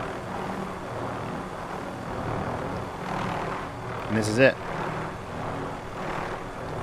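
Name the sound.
helicopter flying in video game Call of Duty Warzone, Verdansk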